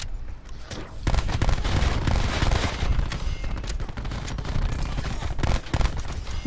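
Rapid, dense gunfire from a Call of Duty: Black Ops 4 match, loud and continuous bursts with sharp cracks packed closely together throughout, no talk over it.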